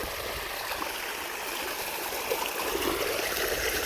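Irrigation water flows steadily through a cotton field, a close, even gurgling rush that carries on without a break and with no talking.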